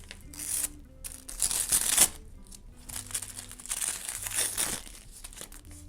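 Paper surprise packet from an Aurora soft-toy collection being opened, giving close, continuous crinkling and rustling with sharper tearing bursts, heard alone without speech.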